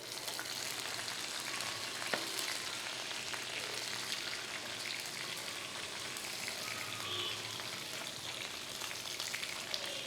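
Mutton brain sizzles and fries steadily on a hot tawa, a dense continuous crackle close up with no voices over it.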